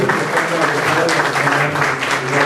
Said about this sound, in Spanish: Le damos un aplauso al doctor que con su tiempo